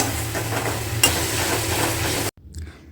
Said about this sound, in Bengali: আবারও সামান্য পরিমাণ জল দিয়ে দিলাম মশলাটা কষানোর জন্য